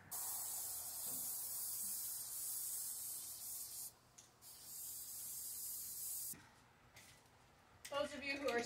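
A spray paint can sprays a wheelbarrow in one long, close, steady hiss, stopping briefly twice before a short final burst with a rattle.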